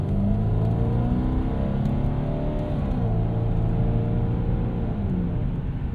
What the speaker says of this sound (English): rusty exhaust makes for a cool noise